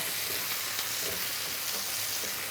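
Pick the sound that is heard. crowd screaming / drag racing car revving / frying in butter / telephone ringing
frying in butter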